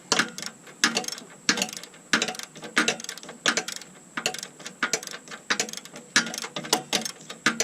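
Ratchet loosening a bolt in a tight spot on a Suzuki Quadrunner ATV during an axle bearing job, with close, crisp clicking in quick repeated bursts as the handle swings back and forth.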